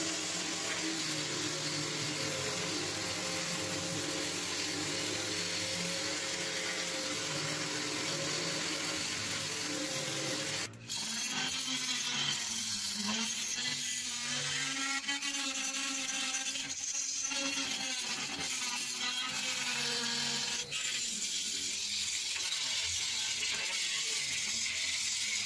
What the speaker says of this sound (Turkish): Evet, zımparalama işlemine başladık.